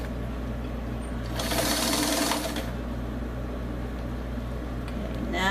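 A sewing machine runs steadily while stitching a bold, bright floral dress panel, a close, continuous mechanical whir that swells louder for about a second midway before settling back to an even hum.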